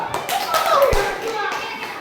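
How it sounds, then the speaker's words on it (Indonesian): Classroom children clap for a group in an Indonesian school lesson, a short burst of scattered hand claps over a couple of seconds with children's voices and a teacher's speech mixed in. "Lalu tepuk tangan kelompok 2."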